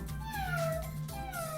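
A person imitates a small cat's meow during a drawing and guessing board game, giving two drawn-out, gliding mewing cries close up against low background hum.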